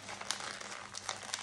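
Paper crinkles and rustles close up while horse gear is wrapped, a soft run of crackling with a few sharper crunches, fairly quiet and alone.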